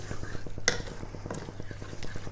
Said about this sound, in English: we're going to stir this through